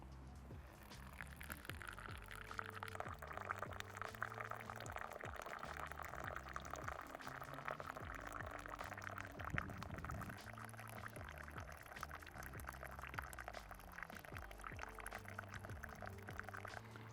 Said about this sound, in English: Using this slow pouring technique, I'm pretty much decanting the Sobacha off into the edge and side and bottom of the kettle